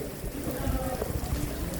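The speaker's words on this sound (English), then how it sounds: "the rain is up on us." Rain falls as a dense, steady hiss and patter, close and even, over a brief span.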